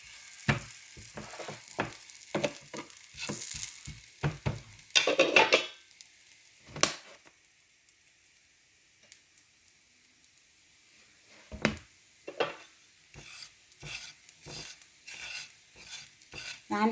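Ripe banana snacks fry in a pan and are flipped with a spatula: sharp scraping clicks and taps come in clusters over a faint sizzle, with a quiet stretch in between.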